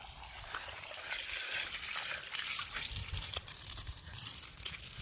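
A 2-inch stream of water pours from a household borewell at a construction site, making a faint, continuous splashing trickle with no talking.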